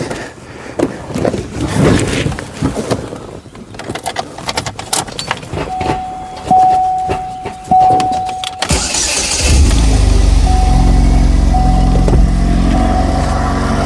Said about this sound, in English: So as you can hear, the engine is running, engine sounds good.